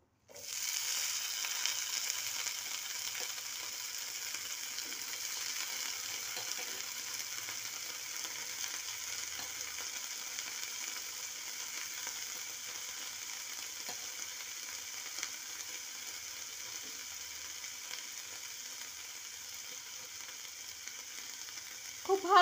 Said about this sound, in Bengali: খুব ভালো করে ধুয়ে নিয়ে ফুলকপিগুলো সেই অল্প তেলেই ছেড়ে দিলাম